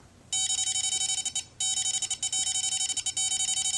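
A home phone rings when called, its electronic ringer sounding loud and close as rapid trills of piercing beeps in two bursts separated by a short gap.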